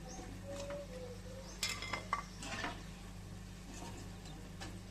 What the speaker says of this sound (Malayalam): ഇനി നമുക്ക് കോരിയെടുക്കാം.